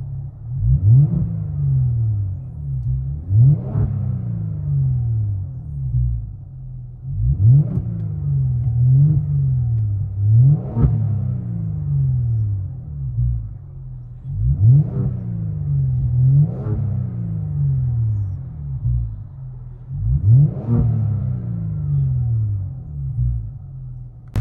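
Inside a Genesis sedan with a 3.3-liter turbo V6 and a muffler delete, loud deep exhaust swells through repeated rev cycles, each rising and falling in a steady rhythmic pattern.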